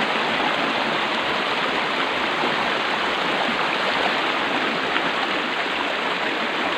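Loud, continuous rush of water pouring through a narrow opening, a dense steady gush close by with no speech.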